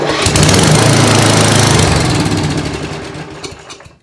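Old 8 horsepower Tecumseh small engine, primed and off choke, catches and runs loudly with a steady, close chugging drone that gradually loses power and fades over four seconds.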